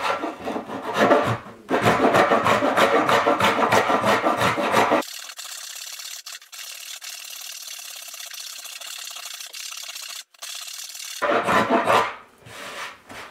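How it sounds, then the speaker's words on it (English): A hand plane or rasp works the bottom edge of a wooden barn board door for a root cellar, giving loud rhythmic rasping strokes, then a steadier, thinner scraping stretch before a final burst of strokes. "Before we get too carried away with planing the bottom plate, I want to attach all the hinges securely."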